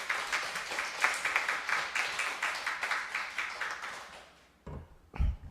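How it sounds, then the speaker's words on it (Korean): A church congregation at a worship service applauds with dense, lively clapping that fades out after a few seconds, followed by a couple of brief thumps and room noise. "다시 한번 박수 부탁드리겠습니다."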